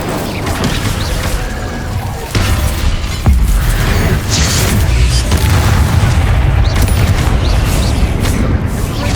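Incendio fire spell blasts in Hogwarts Legacy on PlayStation 5, a loud, dense roar of booming, crashing spell impacts that keeps going almost without a break, with voices calling out over the din.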